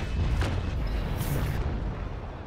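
Ship cannon fire in the naval combat game Naval Action, a sustained series of deep, rumbling booms and blasts rolling continuously at high volume without a break.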